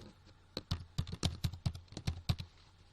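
Quick bursts of typing on a computer keyboard, about a dozen close, crisp key clicks in an uneven rhythm over three seconds, with no voice.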